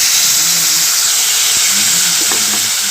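Sour tenga and fried potatoes go into a hot pan for an Assamese fish curry, raising a steady, loud hiss of frying across the whole clip with a few faint stirring clinks near the end.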